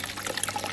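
Water in a koi pond aquaponics setup pours and swirls, flowing around a bucket and back on itself in a steady, close, bright splashing rush.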